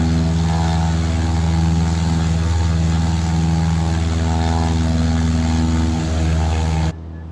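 A small propeller airplane drones steadily in flight, its engine loud and close with a constant buzzing hum from inside the cockpit, cutting off abruptly at the end.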